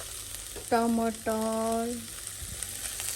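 Vegetables for chow mein fry in a pan with a continuous hissing sizzle, while a voice speaks briefly over it in the middle.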